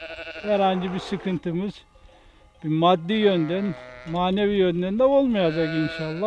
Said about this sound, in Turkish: Bu kuzu sesi